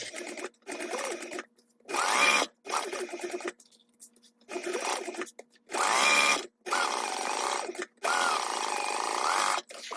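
A sewing machine bastes fabric pieces together in repeated short bursts of fast whirring stitching, with brief stops between runs, close and fairly loud.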